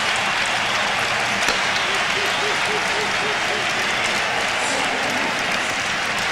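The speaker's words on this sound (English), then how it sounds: "Listen to that crowd." Loud stadium crowd roaring and cheering after a touchdown at a 1995 World League American football game between the Scottish Claymores and Barcelona Dragons, a dense continuous wall of noise with a commentator talking over it.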